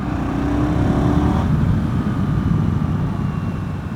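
A 2024 KTM 990 Duke motorcycle accelerates on a test ride, its engine note climbing steadily and loud under rushing wind, continuous with no voices.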